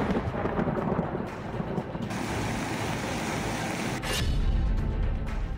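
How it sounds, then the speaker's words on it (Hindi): Deep rumbling thunder rolls on and on, mixed with heavy rain or rushing water, loud and dense with a stronger crash near the end. "गरजते बादल"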